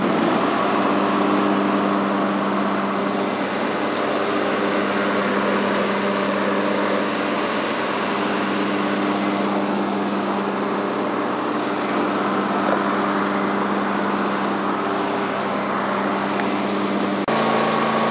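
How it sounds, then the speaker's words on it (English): An Ariens 22 hp riding lawn mower with a 46-inch hydrostatic deck idles outdoors, giving a steady, even engine drone at a constant level for the whole stretch, with no talk over it. "Got a nice little idle on it."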